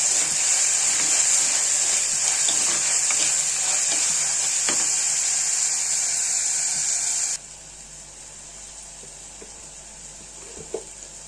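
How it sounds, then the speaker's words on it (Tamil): Onions with ginger and garlic frying in a pan, a steady broadband sizzle with light stirring scrapes that drops abruptly to a quieter simmer partway through, with a small clink near the end. "இப்போ வெங்காயம் நல்லா வதங்கிட்டு இப்போ இஞ்சி பூண்டு போடுவோம்."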